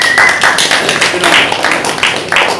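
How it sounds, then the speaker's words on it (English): An audience claps at a talk on unemployment and government policy, a dense burst of hands that swells and thins over a couple of seconds, loud and close, with no voice over it. "give it a clap"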